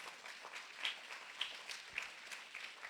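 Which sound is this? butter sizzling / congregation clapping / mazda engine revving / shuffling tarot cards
congregation clapping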